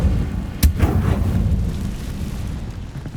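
The Incendio fire spell cast in Hogwarts Legacy gives one sharp blast followed by a deep, rumbling whoosh of flame that gradually fades, loud and close with no talking.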